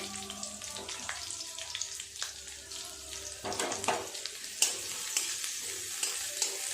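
Two dried red chillies, a green chilli and onion dropped into very hot oil, giving a bright, steady sizzle with occasional stirring scrapes and pops, close and moderately loud.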